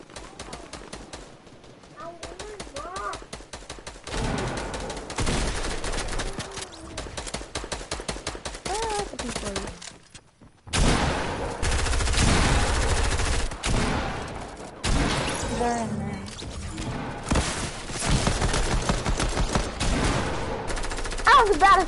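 Dense rapid gunfire in the video game Fortnite, with bursts of automatic shots and heavy volleys filling the whole stretch, loud and continuous apart from a brief drop near the middle, with a player talking over it.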